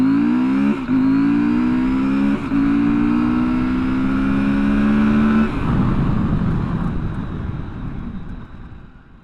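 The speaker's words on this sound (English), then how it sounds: "let's do our 0 to 80 to 0 acceleration and braking testing" A 2024 KTM 790 Adventure motorcycle accelerates hard from standstill to 80 through rising gear-by-gear engine pitch with short shift dips, then the engine note drops away as it brakes and fades.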